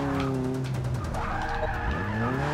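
A car skids under handbrake in Forza Motorsport 6, with a loud, continuous tire squeal over the engine note as the game car slides through a tight section.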